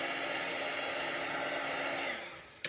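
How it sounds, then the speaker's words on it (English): A craft heat tool blowing steadily as it dries ink blends on paper, a loud even whooshing hiss that runs alone before tapering off and stopping near the end. "I'm going to use my heat tool, and I'm just going to speed up the drying on the blends here"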